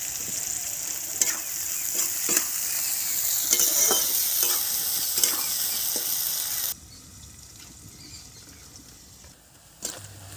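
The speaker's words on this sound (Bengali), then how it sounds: "পেঁয়াজটা যাতে একটু তাড়াতাড়ি মজে যায় হালকা একটু নুন ছড়িয়ে দিলাম।" Onions sprinkled with a little salt fry in a pan with a bright, continuous sizzle and repeated stirring scrapes up close, then the sizzle drops sharply quieter for the last few seconds.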